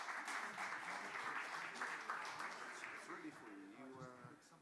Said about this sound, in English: Please give a warm round of applause to Professor Gerald Steinberg.